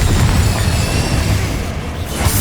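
A Confringo blasting spell explodes in Hogwarts Legacy, a loud, sustained rumbling burst of noise that fills the moment and then tapers slightly near the end.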